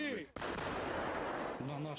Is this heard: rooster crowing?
no